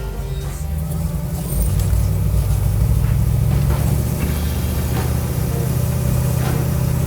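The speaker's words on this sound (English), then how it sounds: "take you guys for a spin so you can see how nice and smooth this vehicle runs" A 1972 Ford Bronco restomod with an automatic transmission drives along, its engine a steady, smooth low rumble heard from inside the cabin, loud and continuous with a few faint rattles on top and no talk.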